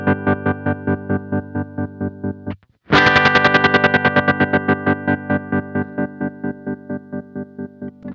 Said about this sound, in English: You'll hear as I strum the chord, you're gonna start out with a very fast tremolo, and then over time it's gonna slow down a little bit.